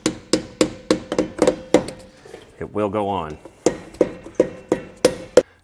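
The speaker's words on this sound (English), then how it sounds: "your best tool right now is a rubber hammer" A rubber hammer taps a trailer hub and drum onto the axle in a run of sharp, evenly spaced knocks close by, broken by a short spoken phrase in the middle.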